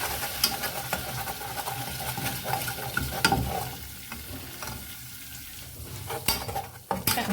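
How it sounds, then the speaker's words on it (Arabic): Flour being stirred and toasted in butter in a pan, a continuous scraping and gentle sizzle with occasional utensil knocks against the pan, close and without talk. "ضروري خصنا نحمصو مزيان مع الدقيق والزبده."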